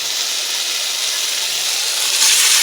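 Boiled potatoes hit hot oil in a village kitchen, giving a steady, bright, close sizzle that holds evenly and swells slightly near the end.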